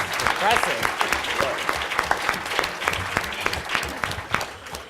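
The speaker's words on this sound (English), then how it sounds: "Let's go ahead and give them a round of applause." Steady applause from a group, dense clapping throughout at moderate loudness, with some voices mixed in underneath.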